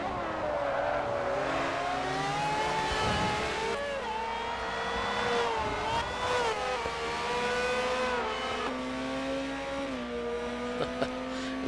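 Ferrari F333SP race cars in a Forza racing game at Motegi, engines revving and shifting with rising and falling whines, several cars close together throughout.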